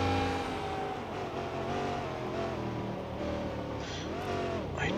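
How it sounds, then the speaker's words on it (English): A slow car drives through city streets in Sleeping Dogs, its engine droning steadily and loud, with a brief pitch sweep near the end. "This car is slow."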